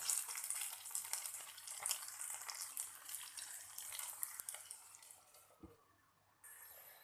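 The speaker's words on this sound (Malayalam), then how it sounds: "നമ്മൾ മീഡിയം ഫ്ലെയിമിൽ വെച്ചിട്ട് ഫ്രൈ ചെയ്തെടുത്താലേ അത് നന്നായിട്ട് ഫ്രൈ ആയിട്ട് കിട്ടുള്ളൂ" Potatoes frying in a pan on a medium flame, with a faint, steady sizzle and crackle that thins out toward the end, heard alone.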